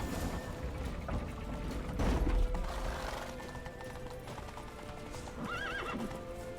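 Horse hooves clip-clop at a steady gallop in The Witcher 3: Wild Hunt over a busy game backdrop, with a horse whinnying loudly near the end.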